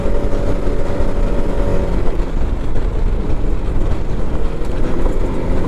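Can-Am Maverick X3 DS Turbo RR side-by-side driving a trail at about 50, its engine a loud, steady, close drone with continuous rough roar and no talking.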